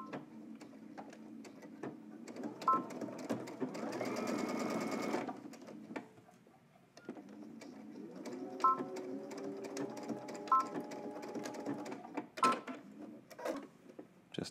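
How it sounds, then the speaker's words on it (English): A sewing machine stitching a seam in fabric, running in short bursts with a steady whirring motor and rapid needle ticking, pausing briefly between runs. "Now let's take all this to the machine so we can sew it up."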